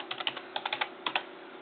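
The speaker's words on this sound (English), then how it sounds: "you'll just type in your username and password that I give you" Computer keyboard keys are tapped in quick, close bursts of about a dozen clicks as a username and password are entered, with short pauses between groups and no voices.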